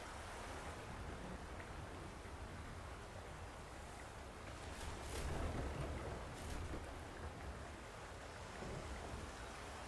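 Storm with driving rain in the video game Diluvian Winds, a steady broadband wash of rainfall and wind holding throughout, swelling slightly midway with a few brief sharper gusts or splashes.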